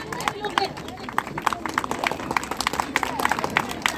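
Thin, scattered applause from a Ramleela audience, irregular claps coming and going at a moderate distance while the crowd murmurs and a voice talks over it.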